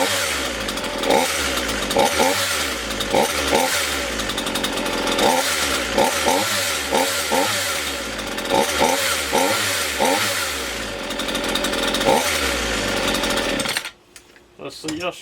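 Craftsman S1450 14-inch 42cc gas chainsaw idling and revving loudly up close, its engine surging and dropping in a repeated rhythm for most of the span, then cutting out near the end.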